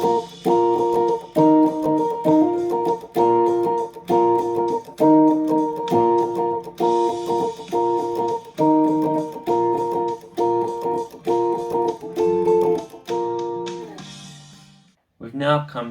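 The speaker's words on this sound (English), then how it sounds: "let's play that along with the backing track" A lead guitar line for a song rides over a full church-style backing track, with rhythmic repeated phrases and steady sustained notes that drop out near the end before a brief restart.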